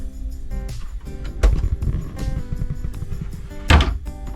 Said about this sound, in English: Now here is the little mini fridge, and this is where we will store our water.